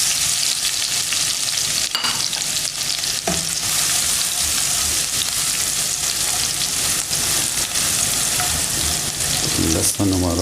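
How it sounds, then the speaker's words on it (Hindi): Garlic and green chili sautéing in a hot pan while making restaurant-style chicken Manchurian: a steady, loud sizzle and frying crackle throughout, with occasional stirring clatter and no talk. "हल्का सा इसको हम सोते करेंगे।"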